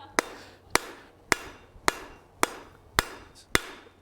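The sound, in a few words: hammer striking hot steel on anvil, forging tongs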